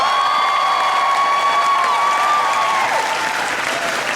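A convention crowd at a fursuit dance competition claps and cheers for a tap-dancing performer, with loud sustained applause and a few high whistles or shouts running over it before it tapers slightly near the end.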